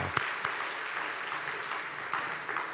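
Church congregation clapping during a Sunday service, a continuous moderate patter of many hands with a few sharper individual claps standing out.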